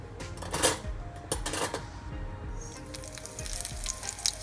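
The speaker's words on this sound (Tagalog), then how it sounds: "Let's fry until golden brown." Garlic and onion frying in a pan, giving a steady sizzle with metallic clinks and scrapes of a utensil against the pan, close and continuous.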